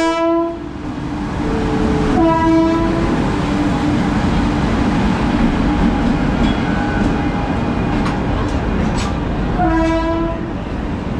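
An express train, the Duronto from Delhi to Chennai, roars past close by, its horn sounding in long harmonic blasts at the start, around two seconds in, and again near the end, over steady rumbling.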